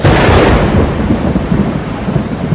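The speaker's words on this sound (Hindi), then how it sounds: "बाहर जोरों की बारिश शुरू हो गई।" Heavy rain pours down in a loud, steady hiss while thunder rumbles through it, with a strong crack at the start that fades into a dense, continuous storm wash.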